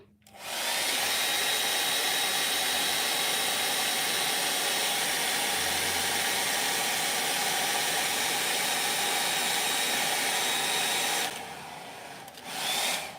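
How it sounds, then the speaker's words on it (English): A hair dryer blows steadily and loudly across a damp Chinese landscape painting, a continuous broadband roar that runs for about eleven seconds before cutting off, followed by a brief quieter rustle and a short second burst. "you can use the hair dryer to save time. Sorry about the noise."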